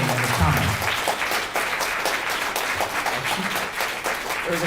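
Conference audience applauding steadily, a dense wash of many hands clapping that holds at a constant level throughout, with no one speaking over it.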